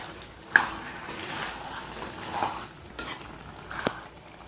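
Chicken with coriander powder stirred in a pot for biryani, with a few scraping clinks of a spoon against the metal and a soft background hiss between the scrapes.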